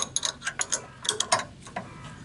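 A ratcheting wrench clicks in quick, uneven strokes while bolts of a bottom bracket support are tightened. The clicks are close and crisp, with no voice.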